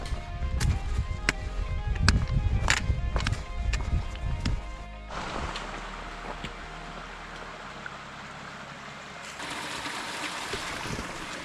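Broadband rushing flow of Cripple Creek along the Appalachian Trail, steady and fairly loud in the second half, following an opening stretch of louder clattering footsteps and movement.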